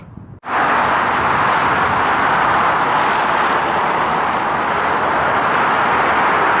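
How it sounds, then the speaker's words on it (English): Traffic thunders past on the busy M62 motorway below a footbridge, starting abruptly and then holding as a loud, unbroken roar. "You can probably still hear traffic thundering past in the background."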